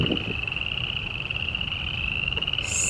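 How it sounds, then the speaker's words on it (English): A chorus of frogs near a metal bridge sets up a continuous high, trilling drone, steady and fairly loud, with low outdoor rumble beneath. "Serious frog noise."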